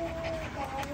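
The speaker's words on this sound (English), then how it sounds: "what a sweet little puppy." A small puppy pants quickly and softly up close, a brief run of breathy huffs with a faint whimpering tone.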